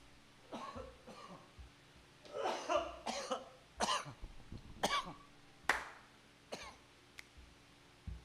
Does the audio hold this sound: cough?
yes